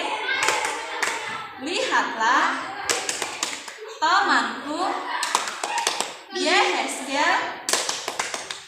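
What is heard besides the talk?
group clapping hands twice in rhythm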